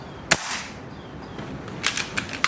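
A tuned BRK Ghost high-power air rifle fires a 25.39-grain JSB pellet on its minimum power setting: one sharp crack early on, followed by a few fainter clicks and taps.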